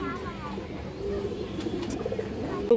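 Pigeons coo in a low, steady murmur at a market stall, heard under someone speaking, with a brief sharper sound at the end.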